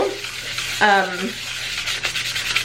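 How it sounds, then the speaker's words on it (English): Scratchy, rasping sanding strokes on a plastic Starbucks tumbler lid, steady and close, with a brief squeaky scrape partway through and faint background noise. "I start off by first sanding my lid"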